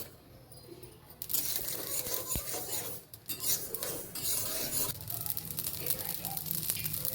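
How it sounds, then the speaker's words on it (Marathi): Mustard seeds roast in a pan, stirred with a utensil that scrapes and clinks against the metal, with a steady crackling hiss running throughout. "इकडं याच्यामध्ये आपण मोहरी भाजून घेऊ"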